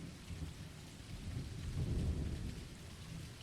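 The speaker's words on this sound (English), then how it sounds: "Oh, I love the sound of the thunder." Steady rain with a rolling rumble of thunder in the farming and fishing video game Dinkum, swelling to a low peak and easing off, with no voices.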